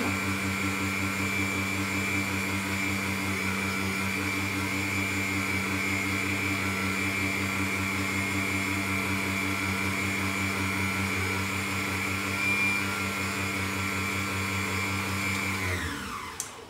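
An electric pasta machine extrudes spaghetti through its die at speed 2, giving a steady droning motor hum with a constant whine that runs evenly for about sixteen seconds, then winds down and stops.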